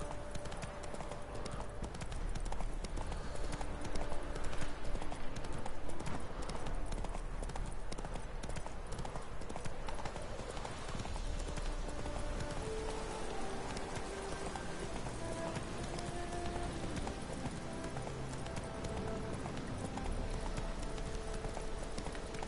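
Continuous rhythmic clip-clop of horse hooves in The Witcher 3: Hearts of Stone under a steady bed of game music and ambience, with a voice talking over it.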